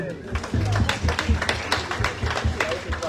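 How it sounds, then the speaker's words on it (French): Audience at a school centenary celebration claps for a group of boys after an instrumental music piece, scattered hand claps over steady crowd murmur and voices throughout. "Alors, on les applaudit, les garçons"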